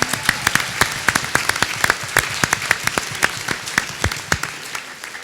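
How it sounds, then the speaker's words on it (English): Audience at a national security summit in South Carolina applauding law enforcement officers, a moderate crowd of distinct, fairly close hand claps forming an uneven rapid rhythm that tapers toward the end. "Let's give them a round of applause."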